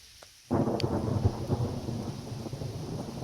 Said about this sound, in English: it's a little bit rainy out here